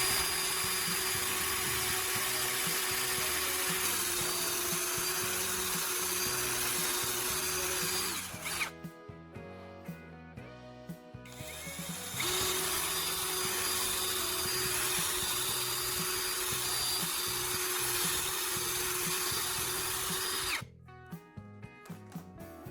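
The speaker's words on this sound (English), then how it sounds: "using a step drill bit to create perfect size holes" A step drill bit bores holes in a base meant to hold spark plugs, giving a loud, steady whine that stops briefly partway through, resumes, then cuts out near the end.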